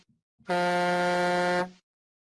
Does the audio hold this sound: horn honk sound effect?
yes